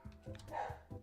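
A dog barks and yips in a few quick muffled bursts somewhere indoors, faint and a little distant, with a voice murmuring briefly in between.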